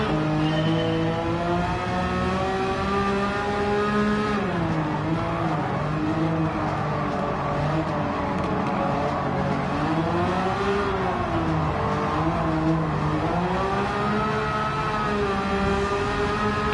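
An engine-swapped Citroen DS21 races in Gran Turismo 7, its engine droning loud and steady, with rising and falling pitch as it revs through gear changes, no voices over it.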